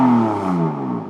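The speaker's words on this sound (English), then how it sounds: "He just tried to rev it in first gear." A BMW E46 330Ci inline-six on a cold start revs briefly in first gear, a loud close engine note that drops in pitch as it falls back after about a second.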